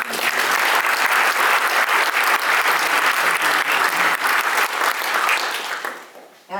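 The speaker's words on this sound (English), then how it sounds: "just giving them a quick round of applause" An audience at an artificial intelligence forum at Seattle University applauds steadily with dense clapping for several seconds, then the applause fades out near the end.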